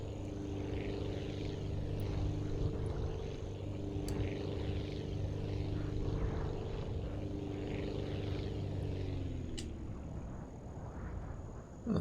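Propeller plane flying in the video game Aviassembly, a steady droning engine hum with layered tonal buzz held for about ten seconds, then shifting in pitch near the end, with no voices.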